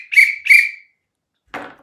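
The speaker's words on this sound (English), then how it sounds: "I also got a whistle for emergency" Two sharp emergency whistle blasts close together, each shrill and about a third of a second long, then a pause and a brief rougher burst at the end.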